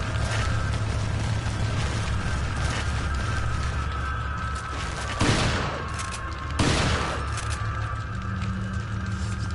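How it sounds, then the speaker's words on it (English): Gunfire in the Resident Evil 4 video game: two sharp broadband shots stand out around the middle of the clip over a steady, dense bed of in-game ambience and mechanical noise. "I'm gonna shoot his pants off."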